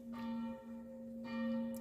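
Church bells ringing out at 8 o'clock in a town, a steady sustained peal with ringing tones that swell, dip briefly and swell again, heard alone without talking.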